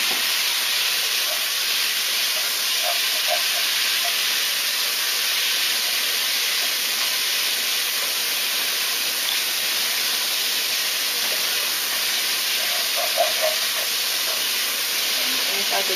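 Sake poured over carrots and onions in a hot iron pot, setting off a steady, loud hiss of steam and sizzle that runs continuously, with faint clinks and stirring noises here and there.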